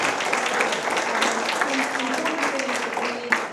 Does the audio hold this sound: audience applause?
yes